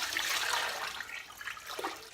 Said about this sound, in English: So we're going to add some more water in here.